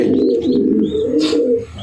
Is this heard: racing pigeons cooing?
yes